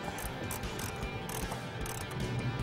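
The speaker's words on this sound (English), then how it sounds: "Tighten the 2 new housing bolts." A ratchet clicks rapidly in short bursts while tightening two new housing bolts on a Jeep TJ Wrangler AFE intake setup, close and mechanical with no talking.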